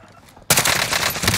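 Gunfire in a video game: after a brief quiet start, a sudden loud burst of rapid automatic fire that runs on as a dense rattling volley to the end.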